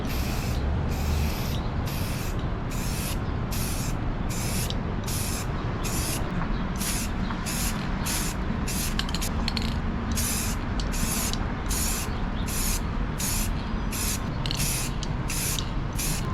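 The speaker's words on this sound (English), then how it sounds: "I'm going to spray paint the black. It's a paint and primer, it's gloss black." Gloss black paint-and-primer sprayed from a can onto a carbon fiber bike frame, a long series of short hissing bursts in quick regular rhythm, close and loud over a steady background.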